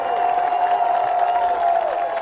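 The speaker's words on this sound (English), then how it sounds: "you hear a bit of a Bronx cheer from the fans here" Soccer fans at a college match react to a foul call with a sustained, mocking jeering noise, a loud, steady crowd sound spread across the stands.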